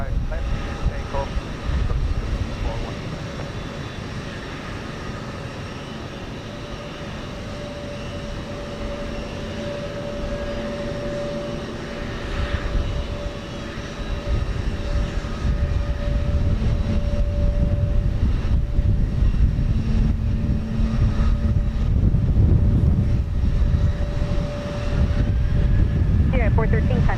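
An airliner takes off from runway 15 left at Houston Intercontinental, a steady engine roar building in loudness toward the end, with a faint tonal whine and a voice talking over it.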